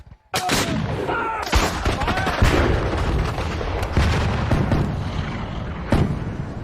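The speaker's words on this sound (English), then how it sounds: "After hours of artillery duels and infantry skirmishing, Jackson orders his entire line forward." Artillery and massed gunfire from the Battle of Bull Run: a dense, loud barrage of booming cannon shots and crackling volleys that runs continuously after a brief opening, with heavier blasts near the start and the end.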